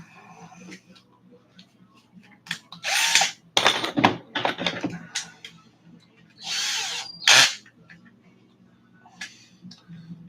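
A power drill drives bent screws into an RC car drivetrain, with a few loud whirring bursts of a couple of seconds each, separated by quieter handling noise and faint talk.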